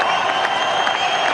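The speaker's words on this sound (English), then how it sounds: "Big round of applause, ladies and gentlemen." A large crowd applauds skipper MS Dhoni at the post-match presentation of the 2009 India vs Sri Lanka fifth ODI, a steady, dense wash of clapping and cheering that fills the whole short moment.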